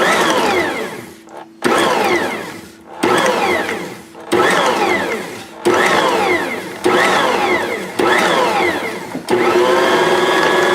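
A food processor pulses a mix of butter, extracts and maraschino cherry juice for homemade Easter candy, its motor whirring loud and close in about eight repeated bursts separated by brief pauses.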